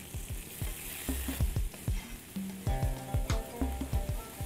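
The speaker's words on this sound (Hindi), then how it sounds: "आप 2 टीस्पून सोया सॉस के फ्राइंग पैन में डाल दें" Soy sauce hits a hot frying pan with garlic, giving a loud crackling sizzle punctuated by rapid sputtering pops and bursts in an uneven rhythm, close and without any talk.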